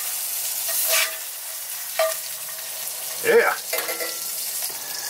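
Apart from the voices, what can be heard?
egg frying in oil in a pan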